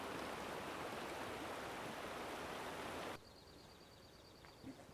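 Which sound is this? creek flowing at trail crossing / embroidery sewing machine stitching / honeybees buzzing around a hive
creek flowing at trail crossing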